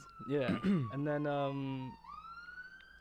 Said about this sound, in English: siren going past